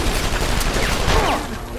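Gunfire from the Deus Ex: Human Revolution video game, a dense burst of rapid shots over a steady, noisy background, easing off toward the end.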